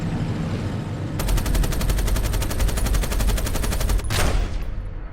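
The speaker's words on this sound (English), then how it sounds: "Encroaching gunfire?" Rapid machine-gun bursts in a film action scene from Mad Max: Fury Road, a fast regular stream of loud shots that ends in a heavier final blast, with no voices.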